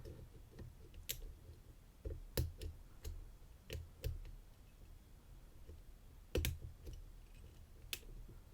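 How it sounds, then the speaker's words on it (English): Pin tumbler picking on a Yale lock, giving faint, sparse metallic clicks and ticks at irregular intervals over a quiet background, with no talking. "Oh, that was a pin 5 at the back. I think I heard a click."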